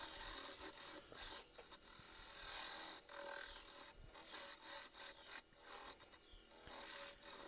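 Bowl gouge scraping and cutting a tenon on a spinning wood bowl blank on a lathe, a steady rough rasping with brief breaks as the tool lifts, close and continuous with no talk.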